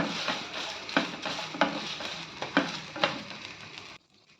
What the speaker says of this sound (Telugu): ఉప్పు వేసుకొని వేయించుకుంటే మిరపకాయలు కూడా బాగా వేగుతాయి ఇప్పుడు ఇలా వేయించుకోవాలి చక్కగా